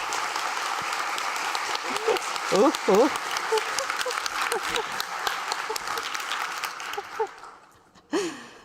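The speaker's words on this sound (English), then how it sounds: "let's see the applause meter once again. And show your enthusiasm" A conference audience in a learning-innovation battle arena applauds for an applause meter, with sustained loud clapping mixed with cheering and exclamations that fades near the end, followed by one brief vocal outburst.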